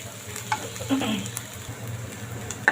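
Gourd seeds frying in a pan give a soft, steady sizzle with occasional stirring scrapes, fairly quiet and close.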